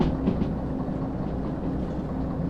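A large train runs in the Derail Valley railway simulator game: a steady rolling rumble with faint rhythmic rail clatter, continuous and fairly close, with no talking.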